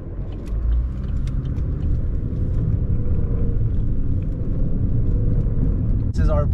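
A 2011 Chevrolet Equinox drives over a bumpy road, heard from inside as a steady low rumble of road and engine noise with occasional knocks and a brief sharp rattle near the end.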